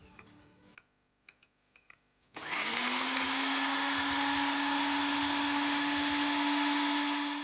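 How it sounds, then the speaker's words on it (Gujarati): A kitchen mixer grinder grinds a cooled masala of mint, coriander and chilli. A few light taps come first, then the motor kicks in abruptly and holds a loud, steady whirring drone to the end. "મસાલો ઠંડો થઈ ગયો છે, હવે એને આપણે મિક્સરમાં પીસી નાખીશું."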